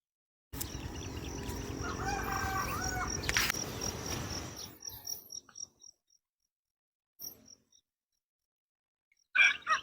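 Dense outdoor chorus of many birds' calls and chirps over a rice field fills the first few seconds, then fades to scattered faint calls and a couple of louder bursts near the end.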